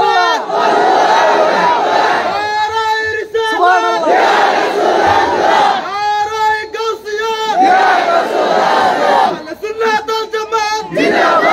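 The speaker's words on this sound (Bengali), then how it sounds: "তুমি একটা জোরে তাকবীর দিবা" A large crowd at a Bengali Islamic sermon gathering shouts takbir in loud, unified bursts, several rousing cries in succession with brief pauses between them.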